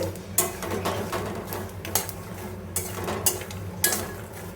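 Makhana (fox nuts) tossed with salt and spices in a pan, giving a steady scraping, stirring rattle with sharp clinks of a utensil against the metal at irregular intervals, close and fairly loud.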